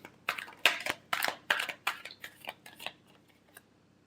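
Tarot cards being shuffled during a reading, a run of crisp riffling and slapping bursts that fade toward the end, close and alone with no talk.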